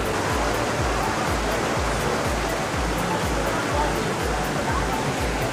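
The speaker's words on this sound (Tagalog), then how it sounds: "Ang sarap pakinggan ng agos ng tubig." Rushing river water roars continuously and loudly up close, a dense steady wash with a faint pulsing thump underneath.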